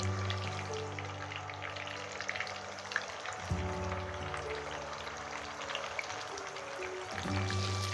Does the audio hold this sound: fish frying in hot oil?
yes